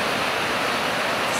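White water rushes down a river in Icicle Canyon near Bridge Creek Campground, a loud, dense, continuous hiss of churning water with no breaks.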